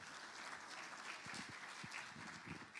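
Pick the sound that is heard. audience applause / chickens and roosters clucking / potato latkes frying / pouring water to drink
audience applause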